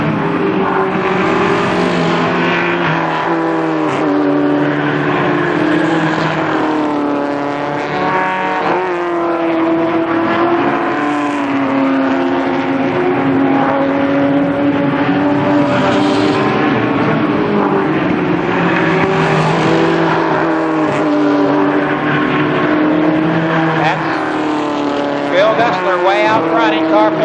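A pack of race cars circles the oval at Columbus Motor Speedway, engines roaring and droning continuously with rising and falling pitch as cars pass, loud throughout, with an announcer talking over it.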